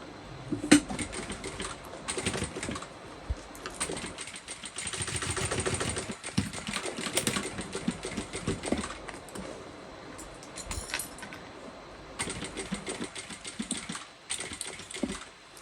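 A sewing machine runs a basting stitch through a bucket bag in steady mechanical bursts, whirring in stretches and pausing briefly between runs, close and fairly loud with no talk over it.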